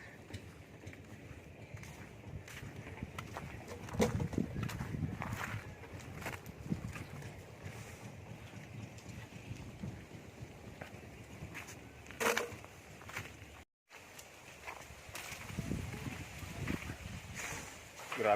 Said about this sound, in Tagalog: Grabe ang hangin dito guys.